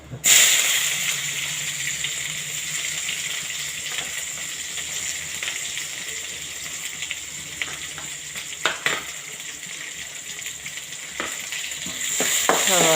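Steady sizzling and frying hiss from onions sautéing in oil with curry leaves, close by, with occasional stirring scrapes and clicks throughout.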